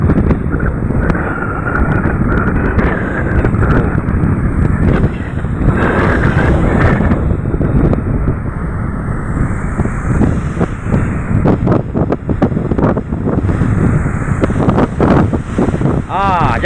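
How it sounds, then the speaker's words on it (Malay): Strong wind buffets the microphone over rough sea waves near a small pompong boat in extreme weather, a constant loud roar throughout with occasional speech mixed underneath. "Karena masih kuat gelombang ya."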